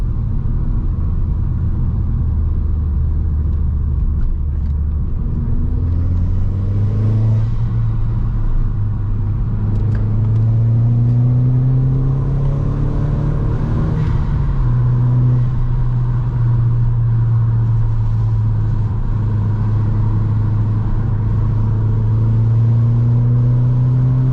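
A Mk1 SEAT Leon Cupra R engine droning steadily from inside the car while driving, its pitch rising and falling as the gears change, loud and continuous with no talking.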